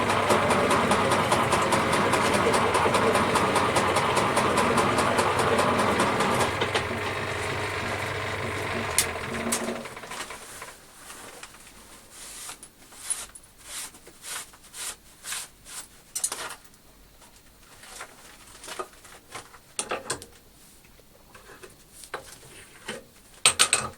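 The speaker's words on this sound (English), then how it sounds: "that's probably the most common way of cutting a chamfer on the shaper" Metal shaper cutting a chamfer, a steady mechanical drone with rhythmic grinding for the first ten seconds, then a quieter stretch of irregular clicks and clanks as the machine stops.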